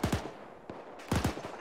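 Bursts of gunfire in a squad-based military shooter, two quick clusters of sharp shots separated by a short gap, moderately loud at mid distance with no talk over them.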